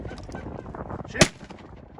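A single sharp shotgun blast rings out during a late-season Canada goose hunt in Pennsylvania, cutting through a background of honking geese and fowl calls that continue faintly after the shot.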